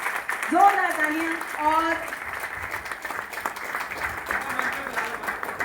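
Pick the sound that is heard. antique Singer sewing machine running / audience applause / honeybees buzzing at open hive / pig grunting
audience applause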